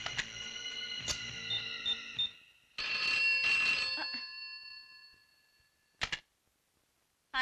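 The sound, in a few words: telephone ringing, call to hospital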